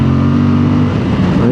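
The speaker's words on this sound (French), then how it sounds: "Allez, là, on met un petit coup d'accélérateur." A 2020 Suzuki V-Strom 1050 XT engine is revved, giving a loud, close, continuous throaty roar whose pitch rises and then falls slightly.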